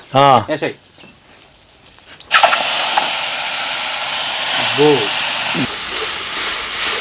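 Whole spices such as bay leaves, cloves, cardamom, star anise and cinnamon dropped into hot oil for chicken kurma, bursting into a loud, sustained sizzling hiss after a short spell of quiet, with brief talk before and during.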